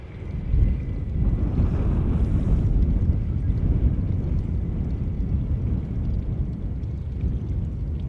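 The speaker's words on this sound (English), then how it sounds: "Bit of wind." Strong wind buffets the microphone at an airport, a loud continuous roaring rumble that swells and holds steady, with no talk.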